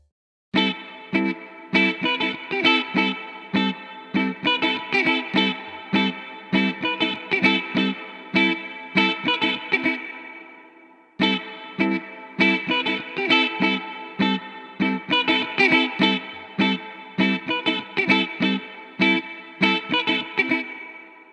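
In Ableton Live, a reverb effect with a wide stereo spread washes over a repeating plucked, percussive musical phrase, giving it a spacious, echoing tail. The phrase plays twice with a brief pause between and no talking.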